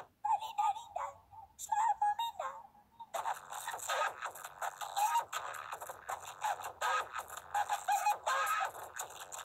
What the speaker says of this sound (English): Did that dog just make a chicken sound?